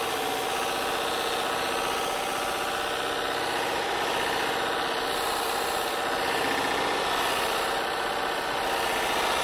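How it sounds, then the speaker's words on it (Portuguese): A high-speed 2 HP polishing machine buffs a bone knife handle, a steady, loud whirring motor drone with a rubbing hiss, continuous and close with no pauses. "Eu trabalhei por muitos anos com essa politriz que tem um motor de 2 HP de alta velocidade."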